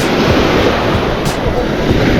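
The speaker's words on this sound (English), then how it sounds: "Look at these waves coming in." Ocean waves breaking on a Sarasota County, Florida beach, a loud continuous roar of surf with wind buffeting the microphone close by.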